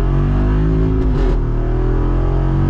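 A 2023 Jeep Wrangler Rubicon 392 engine roars loudly at full throttle in second gear, a deep sustained drone that rises briefly in pitch before settling.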